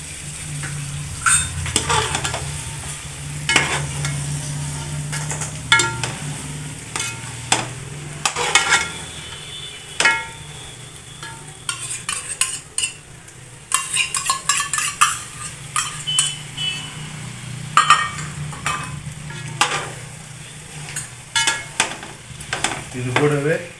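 Biryani ingredients frying in a pot, a steady sizzle under repeated spoon stirring and scraping with metallic clinks against the pan, loud and close throughout.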